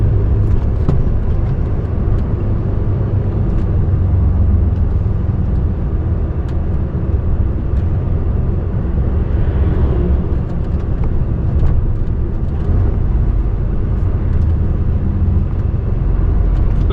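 A car driving along the A614 road through Sherwood Forest, heard from inside as a steady loud engine and road rumble with continuous tyre noise and no talking.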